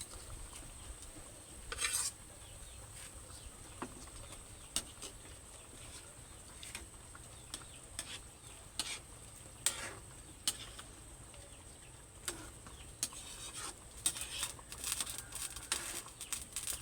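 Pieces of fried fish are stirred into a simmering pot of fish stew with papaya and moringa, giving faint bubbling, soft sizzle and scattered utensil clinks against the pot, quiet and without talking.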